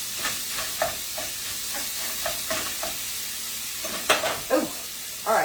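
Sausage cooking on high heat in a frying pan for a breakfast of biscuits and gravy, with soft steady frying and a string of quick scraping stirs and clatters that grow louder toward the end.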